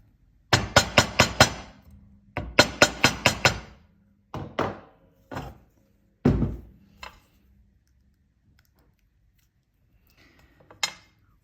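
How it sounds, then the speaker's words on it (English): Sharp metallic hammer strikes on wire ring out in quick clusters of several blows, then a few isolated hits, separated by quiet gaps. "And I will hammer again."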